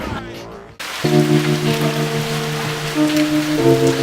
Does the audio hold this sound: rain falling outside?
yes